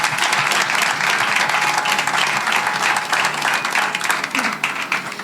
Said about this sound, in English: can we just give a round of applause to New York Roadrunners